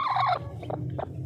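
Poultry vocalising close by after newly hatched chicks appear, a short loud call followed by several softer clucking bursts over a low steady background hum.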